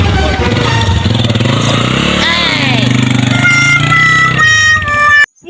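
A motorcycle engine roars close and loud as it is ridden off by thieves, its pitch climbing and falling through revs before cutting out, with voices shouting around it.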